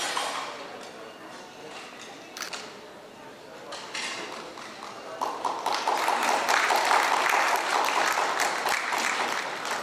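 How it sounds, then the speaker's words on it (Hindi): Applause swells from a crowd at a Rotary Club event, starting moderate and growing louder and denser partway through, with a few sharp claps standing out. "कृपया जोरदार तालियों से ये तालियां की गूंज बहुत दूर तक जानी चाहिए"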